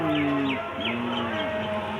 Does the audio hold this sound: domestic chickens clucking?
yes